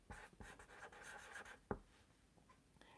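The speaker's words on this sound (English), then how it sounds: "I'm going to write this down, Michelle" Pen writing a note by hand on paper, a few quick close scratchy strokes in short bursts, faint and alone, fading out toward the end.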